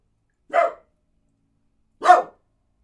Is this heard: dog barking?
yes